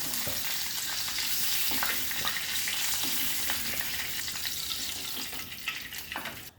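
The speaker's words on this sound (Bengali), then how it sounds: "পরের পটলগুলো এইভাবে ভেজে নেব।" Slices of pointed gourd fry in hot oil with a dense, close sizzle, broken by the scrape and clink of stirring now and then.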